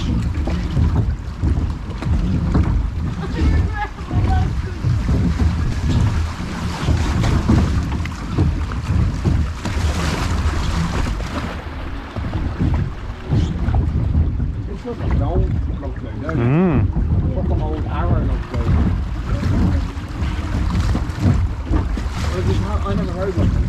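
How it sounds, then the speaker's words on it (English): Rushing water and wind noise fill the scene continuously from a log flume ride splashing along at Bellewaerde theme park, Belgium, in winter, with faint voices in the background. "From one water ride on the left that's closed to a log flume that's open on the right."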